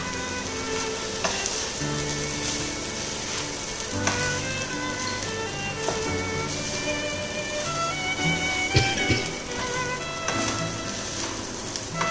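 Steady sizzling and crackling of cooked rice frying in a hot pan for chicken kheema fried rice, with occasional scrapes and knocks of stirring throughout.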